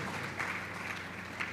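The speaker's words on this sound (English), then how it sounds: "Please, let's give her a round of applause." An audience at a career fair in Enugu gives a round of applause, a dense, steady wash of many hands clapping that holds evenly throughout.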